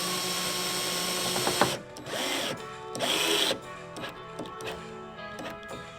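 Screws driven in with a power drill to fix brackets to a wooden board for a DIY Toyota Tacoma truck camper, with several short whirring bursts and ratcheting clicks up close, separated by brief pauses.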